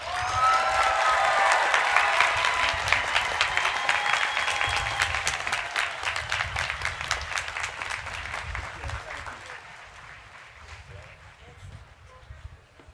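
Audience applause for graduates at a university spring commencement, loud and dense at first, then slowly thinning and fading over about thirteen seconds, with no talking over it.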